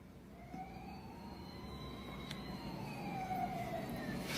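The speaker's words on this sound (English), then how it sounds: "Sirens?" A wailing siren rises and falls over steady traffic rumble, sounding at a distance and slowly growing louder.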